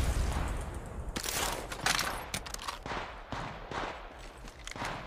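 Apex Legends Mobile gunfire: repeated bursts of automatic shots at moderate loudness, crackling in clusters across a few seconds, with light footstep-like shuffles between.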